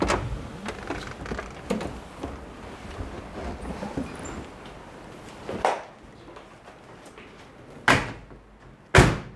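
Several truck door thuds and slams, one a sharp bang near the end, amid outdoor wind and rustling handling noise.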